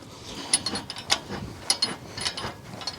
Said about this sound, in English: Spin this bolt the rest of the way out.